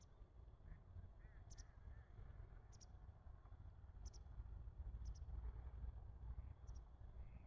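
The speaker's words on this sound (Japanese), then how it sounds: "水鳥たちがいつものように朝日を待っているようです。" Water birds calling at dawn on a calm, cold morning by the water: faint, distant, sparse honking calls repeat every second or so over a steady low outdoor rumble.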